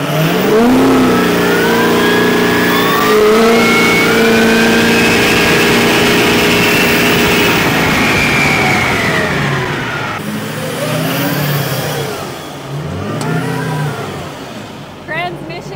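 A car in third gear accelerates hard from a standing start, its engine rising steadily in pitch for about ten seconds before easing and revving briefly again. Voices can be heard over the engine noise.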